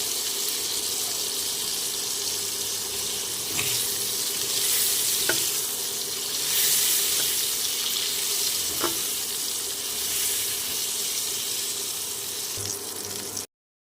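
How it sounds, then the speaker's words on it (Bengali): Pointed gourd pieces fry in hot oil with a pinch of turmeric, a steady close sizzle with a few sharp clicks and stirring sounds throughout, no speech. "পটল ভাজার মধ্যে দিয়ে দিচ্ছি সামান্য পরিমাণে হলুদ"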